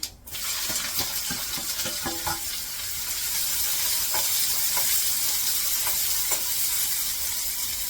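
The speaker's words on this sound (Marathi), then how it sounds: "आता कांदा परतून घेते" Chopped onion sautés in hot oil with cumin in a pan, giving a continuous close sizzle and hiss with scattered small crackles and occasional light clicks throughout.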